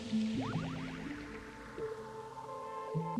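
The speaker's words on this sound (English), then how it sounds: "If it feels dry, water your plant lightly first." Water poured lightly onto a houseplant's soil, a soft close trickle with gentle gurgling and dripping, no voices.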